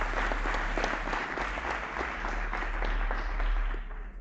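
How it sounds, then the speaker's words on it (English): Audience at the Legae Academy 2022 award ceremony applauding prize winners, a dense, sustained round of clapping from a large crowd that fades slightly at the close. "Please give yourselves a round of applause"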